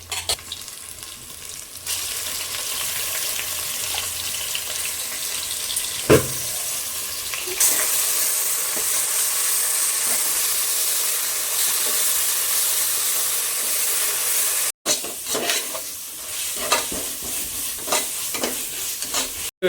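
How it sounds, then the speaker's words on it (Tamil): Ginger garlic paste added to a hot frying pan for basmati chicken biryani, fried onions already golden, sets off a loud sustained hiss that swells sharply after the paste goes in, with occasional stirring scrapes. "அடுத்ததாக பார்த்திங்கன்னா இஞ்சி பூண்டு விழுது சேர்த்த போகிறோம்."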